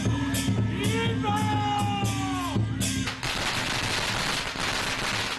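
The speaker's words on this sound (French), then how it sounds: "on commence à entendre le son des pétards qui accompagnent le départ de la procession" Firecrackers at a Hakka wedding procession by the Cuijiang river go off in a dense, continuous crackling string that takes over after a few seconds of tonal music and voices.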